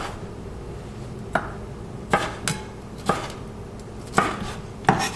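Sharp knife chopping tomatoes on a board for bruschetta, about six distinct crisp cuts at uneven intervals, close and fairly quiet with no talk.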